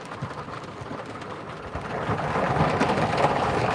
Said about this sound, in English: This rain right here, I will lean back just like this and take a nap